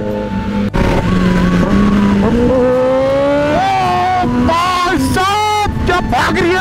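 A Kawasaki Z900 motorcycle roars during a night drag race, loud and close throughout, its engine note rising steadily through the gears with tonal revving and shifts that climb higher toward the end.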